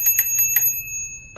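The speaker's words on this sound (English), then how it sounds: "From here, you have your bell" The bell on a Snap N Go mobility scooter rings four quick, bright dings close by, followed by quiet and a faint click.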